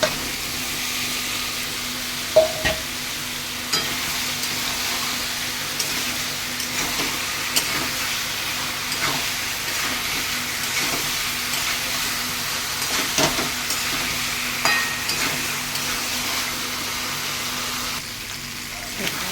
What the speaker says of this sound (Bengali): পেঁপে আলুটা কষাচ্ছি